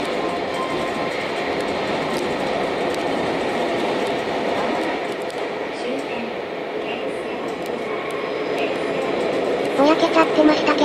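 The Keisei Skyliner express train runs on rails near Ueno in Tokyo, with a steady loud rumble and rushing noise heard from inside the car and a faint announcement chime near the end.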